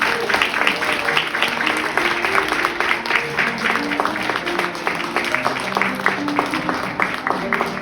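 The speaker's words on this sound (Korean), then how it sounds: "여러분 박수 한번 크게 부탁드리겠습니다" Wedding guests clap for the couple during the ring exchange, a moderate crowd applause with individual claps standing out, while music or a voice runs faintly underneath.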